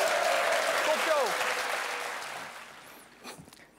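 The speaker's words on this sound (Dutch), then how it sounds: "Nou, dames en heren, applaus." Studio audience applause celebrating Hans Kraay jr.'s 60th birthday, a broad wash of clapping fading out over a few seconds while voices and a brief whistle-like tone sit on top.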